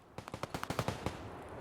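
A rapid burst of about nine automatic gunshots rings out in a video game, sharp and mid-distance, followed by a brief lingering echo.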